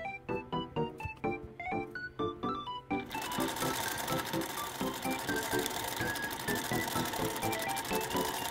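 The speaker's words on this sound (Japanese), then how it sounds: "布の両端をミシンで縫います。" A sewing machine stitches along both edges of fabric laid over a 2.5 cm wide acrylic tape for a shoulder strap. After a few seconds of short plucked tones, a steady, rapid, close mechanical whir runs to the end.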